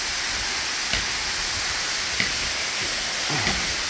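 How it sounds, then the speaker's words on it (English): Steady broadband rushing of a man-made waterfall inside a long tunnel, a constant hiss of falling water with a few faint knocks, no voices. "Another cool waterfall, man-made."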